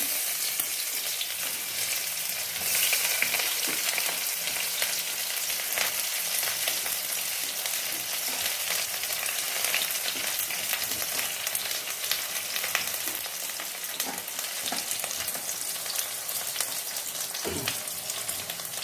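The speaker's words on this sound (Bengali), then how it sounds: "তো এই আমি পেঁয়াজগুলো দিচ্ছি" Sliced onions fry in a pan for a fish curry, giving a close, steady crackling sizzle that holds for a long stretch, with a few faint knocks and no speech.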